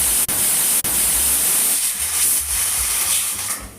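A pressure cooker on the stove, cooking rice for temple-style sweet pongal, vents steam in a loud continuous hiss, broken by two brief sharp cutoffs near the start and easing slightly toward the end.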